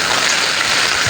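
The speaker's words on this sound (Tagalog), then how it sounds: "Naulan na guys." Steady rain falls in a continuous broadband hiss, fairly loud and close, with no pauses or voices over the short span.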